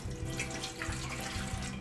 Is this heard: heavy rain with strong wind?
no